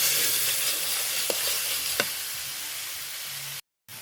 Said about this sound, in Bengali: এখন নাড়াচাড়া দিয়ে কষিয়ে নিতে হবে।